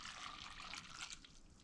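Water poured into a cooking pot of cranberries for a Thanksgiving dish, a steady close trickling splash lasting under two seconds with no talk.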